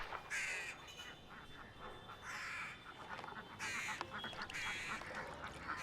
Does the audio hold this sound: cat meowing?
no